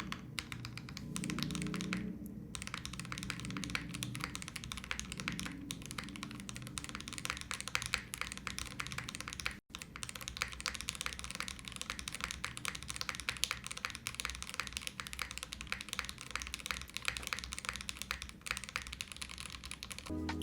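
Steady typing on a mechanical keyboard, rapid clacky keystrokes continuing throughout at close range, with no talking.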